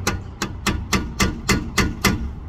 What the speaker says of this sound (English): I gently just tap between the two.